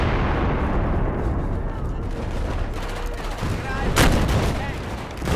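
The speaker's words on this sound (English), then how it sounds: "There's like three people shooting at me right now." Battlefield 4 multiplayer gunfire: dense, continuous rattling shots and booming blasts at close range, with a sharper crack near the end, all under a loud rumbling battle din.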